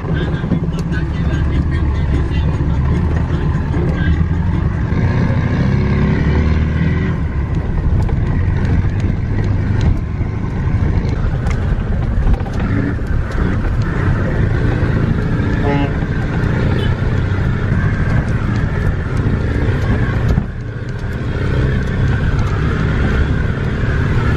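A car rumbles and jolts along a rough road in Colombia, heard from inside as a constant loud road and engine roar with rattles and bumps, while people talk over it.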